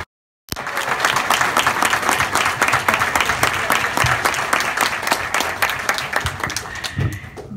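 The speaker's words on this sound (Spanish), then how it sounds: "Para ellos un fuerte aplauso," After a brief silence, an audience at a panel event on Venezuela bursts into strong, steady applause, close and dense, thinning slightly toward the end.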